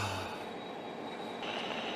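High-speed train running on rails in an audio drama setting, a steady broadband rumble with a faint high whine throughout, no speech over it.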